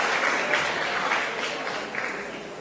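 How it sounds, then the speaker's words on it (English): Brief applause from an audience for competition participants at a live innovation contest event, a soft, washy wash of clapping that holds steady and fades slightly. "A round of applause again for all our participants."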